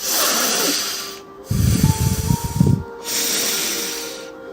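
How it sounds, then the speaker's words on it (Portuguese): Slow, deep breaths taken to calm down, a broad airy hiss of inhaling and exhaling that swells and fades in long cycles, with a couple of heavier, rougher breaths in the middle and steady background hum. "Respirando profundamente."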